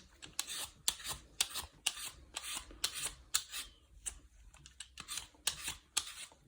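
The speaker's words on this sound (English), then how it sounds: "your sweet potato again with your peeler, going round the potato" A hand peeler scrapes around a raw sweet potato while a roast dinner is prepared, giving quick, close, rhythmic rasping strokes of about two per second, steady and alone without talk.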